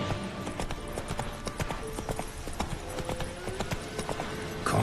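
Horse hooves clip-clop in The Witcher 3 as a mount sets off at a walk, an even, continuous run of close hoofbeats throughout.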